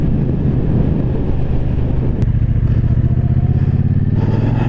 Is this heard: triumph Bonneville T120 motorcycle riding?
yes